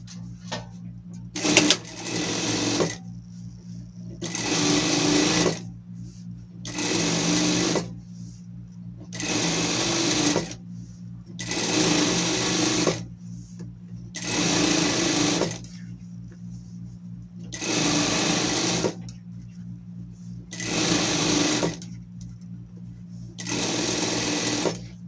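A sewing machine stitches a spring garment set in a series of about ten short, evenly spaced runs of rapid whirring, each stopping abruptly, close and loud, with a quiet voice in the gaps.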